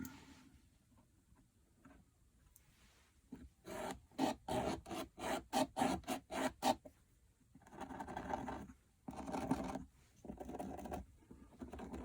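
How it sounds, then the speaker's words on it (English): A marker or pencil scratches rapidly against a hard mounting plate in a quick burst of short strokes, followed by slower, longer scraping rubs. "Mark my holes and where I'm going to cut and drill."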